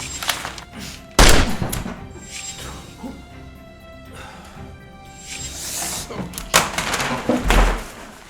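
Sharp gunfire bursts: a loud impact around one second in, then scattered crackling shots and a cluster of louder cracks near the end, with quieter rumbling between.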